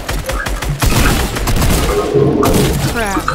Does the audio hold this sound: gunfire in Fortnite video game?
yes